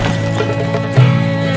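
Horse sounds in the game Stronghold Crusader, a short burst of clip-clop hooves and a neigh over a steady tonal game background, loud and close.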